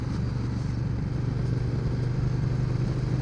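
Engine of a 2011 Ducati Diavel Carbon motorcycle while riding, after a fuel-injection mapping fix, a steady loud low drone with a constant pitch and wind rush, heard alone without talk.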